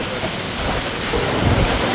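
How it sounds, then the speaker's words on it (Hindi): Heavy rain pouring down in a dense, loud roar with low rumbling thunder rolling underneath, heard from inside an auto-rickshaw during a downpour, with no voices. "कितनी तेज बारिश हो रही है"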